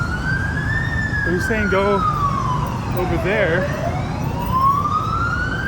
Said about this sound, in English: More ambulances. That noise pollution, baby.